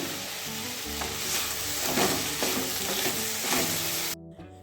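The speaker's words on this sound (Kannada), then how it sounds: "ತರಕಾರಿ ಎಲ್ಲ ಫ್ರೈ ಆಗಿದೆ" Mixed vegetables frying in a kadai for a veg kadai dish, a steady close sizzle with rhythmic spatula stirring and scraping against the pan, which cuts off abruptly near the end.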